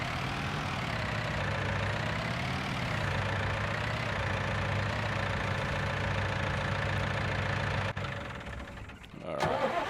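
A tractor engine idling in the Farming Simulator game, a steady mid-pitched hum with slight shifts in pitch, cut off near the end by a brief clunk.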